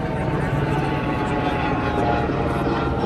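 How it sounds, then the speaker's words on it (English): A steady, loud police helicopter rotor drone fills the air overhead above a Las Vegas crowd, constant and unbroken throughout. "You're gonna hear that police helicopter over us."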